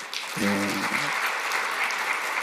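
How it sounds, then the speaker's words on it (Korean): A church congregation applauds in steady, dense clapping, with a brief low voice near the start, continuing evenly throughout. "우리 박수 한번 하십시다."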